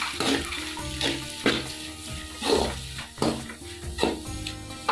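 Onion, ginger and green chili frying in a home pan for Arabian fried rice, with a steady sizzle broken by repeated scraping stirs and spoon knocks against the pan at an irregular rhythm.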